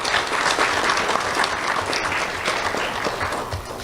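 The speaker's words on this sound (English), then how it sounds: "Let's have a round of applause for the school board and Dr." Loud, close applause from an awards-ceremony audience honoring the school board, dense overlapping claps sustained throughout and tapering a little toward the end.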